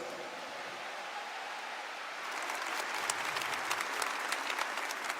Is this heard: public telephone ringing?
no